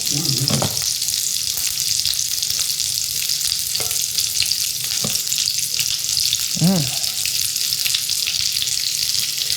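Slab bacon and onion frying in a Staub cast iron skillet, a loud, dense, unbroken sizzle with brief spatula scrapes and a short voice-like sound partway through.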